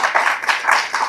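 A church congregation claps hands together in a quick rhythmic pattern, loud and close, with bursts of claps repeating in steady groups.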